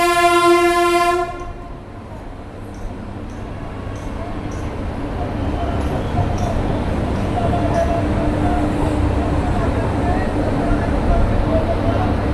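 Sairang Express at Azimganj Junction platform sounds a loud horn blast, then rumbles past steadily with rolling wheel noise filling the rest of the clip.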